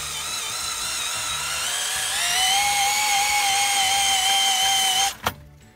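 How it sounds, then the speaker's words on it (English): Cordless screwdriver driving a car engine over by hand so the pistons move up and down, giving a loud steady whine that rises in pitch partway through, then stops abruptly with a short clunk. "it's just kind of cool to use the drill to recreate the engine movement while you can still watch it move"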